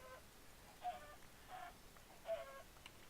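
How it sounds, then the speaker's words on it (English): Chickens cluck in a video game, with three or four short, faint clucks spaced across a quiet background and no speech. "Yeah, lots of chickens here."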